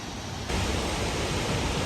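Rain-swollen waterfall at Fall Creek Falls State Park in Tennessee roars as a loud, dense, unbroken rush of water, swelling slightly after the first half second.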